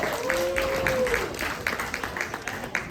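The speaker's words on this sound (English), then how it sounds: "do I hear applause for Walden House?" Audience applause at a San Francisco gala for HealthRight 360's Walden House program, moderate scattered clapping under a sustained tone, fairly distant and thinning toward the end.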